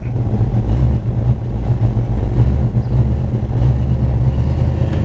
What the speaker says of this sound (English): have my 14-year-old kid come down here and back that truck in for him